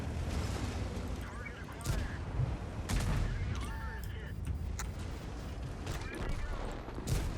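Tank guns fire in World of Tanks during a battle: several heavy booming shots and bursts of gunfire, loud over a constant rumbling engine, with someone talking over the action.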